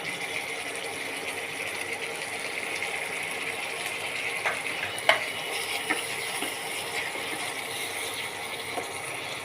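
A masala paste of cashew, poppy seed and melon seeds sautés in a pan for katla fish rezala, giving a steady soft sizzle with occasional scraping clicks from stirring.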